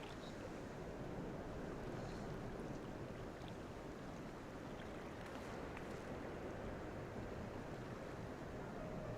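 Steady ocean wash in the Final Fantasy XIV video game, a dense continuous rumble and hiss of surf with wind, even in level and fairly quiet, with no voices.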